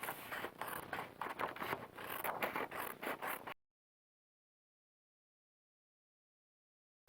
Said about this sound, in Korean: 종이 도안을 먼저 잘라주세요.